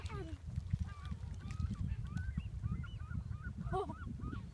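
Seabirds calling at the seaside, a scatter of short squawks and honking cries from several birds over a low rumble of wind and surf, loudest and most crowded toward the end.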